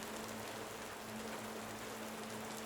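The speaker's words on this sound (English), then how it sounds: "let the soothing sounds of rain embrace you like a gentle lullaby" Soft, steady rainfall hisses evenly throughout, fairly quiet, with a faint low hum underneath.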